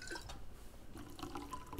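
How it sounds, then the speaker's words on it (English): Water poured into the back of a coffee machine in the video game Routine, a quiet, short trickling and dripping of liquid heard alone at low level. "Pour the water into the back of the coffee machine."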